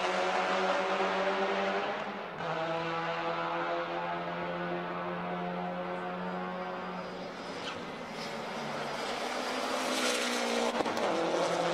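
Brian Tyson's JS2 race car laps Circuit of the Americas during a Super Lap Battle, its engine droning loudly at high revs with gear shifts and a rising, shifting pitch, heard alone without talk.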